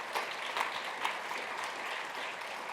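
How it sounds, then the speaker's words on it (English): A room of listeners applauds students at an economic outlook event: a brief, fairly faint burst of many hands clapping in a steady patter. "please join me in a round of applause as we welcome those students"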